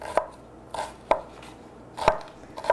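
An onion being diced into tiny pieces with a knife on a cutting board: four or five crisp, close chops spaced roughly half a second apart, each with a short, bright crunch, and no talking.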